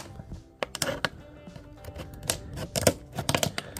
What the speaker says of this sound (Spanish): en una esquina, vamos a estar clavándole aquí, como estás viendo ahora mismo, un cúter